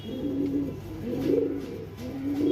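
Pigeons coo in a repeated rhythm close by, soft throaty calls rising and falling about every second with no talking.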